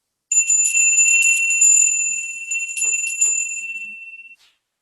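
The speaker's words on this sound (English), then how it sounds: "ring the bell." A meditation bell rings once, close and bright, holding a clear sustained metallic tone for about four seconds with a slight shimmer before it cuts off, heard alone.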